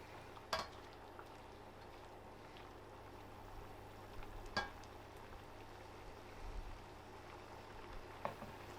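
Tofu simmers in a hot and sour sauce in a pan, a low steady bubbling and sizzle with a few sharp clinks or spatters at intervals, close and quiet.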